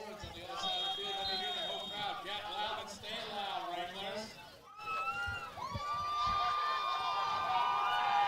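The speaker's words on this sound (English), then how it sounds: "Crowd getting wild. The car's starting to honk horns." A crowd at a high school football game, Shoshoni vs Big Piney, cheers wildly while car horns honk in sustained blasts. A commentator talks over the noise, and the horns grow louder and more frequent toward the end.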